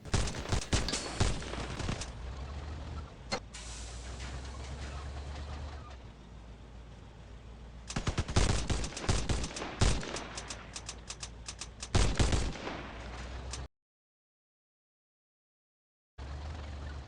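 Gunfire blasting at the ground in the vehicle combat game Crossout Mobile, loud sustained rapid bursts of shots over a droning engine rumble, breaking off into brief silence before the rumble returns, with no talk.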